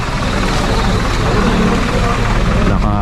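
A tow truck engine idling with a low, steady rumble close by, under people talking.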